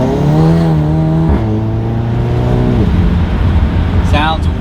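A VW Mk7 GTI fitted with an ATP catted downpipe revs at close range, its engine note holding a steady drone and then swinging up and down in pitch with each blip of the throttle.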